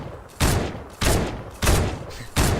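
Scoped AR assault rifle firing in a video game, four loud close bursts of rapid gunfire evenly spaced with short gaps, no talk.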